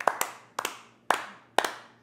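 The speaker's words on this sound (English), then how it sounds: "you got to start clapping." Four sharp claps spaced about half a second apart, close and loud, from someone keeping time for dancing on Bourbon Street in a Cajun cooking show setting.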